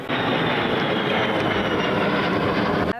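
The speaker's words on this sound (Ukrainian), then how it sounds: "Це американський винищувач F-16, який допоможе Збройним силам нищити російського ворога." An American F-16 fighter jet roars steadily, a loud, dense, continuous engine rush that holds for about three seconds, then cuts off.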